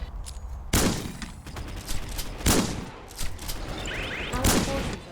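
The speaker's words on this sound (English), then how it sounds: "One thing about the shotgun, the sound feels kinda weak" Shotgun blasts in the VR shooter game Guardians Frontline, four loud, punchy shots spaced a second or two apart, each with a short booming tail.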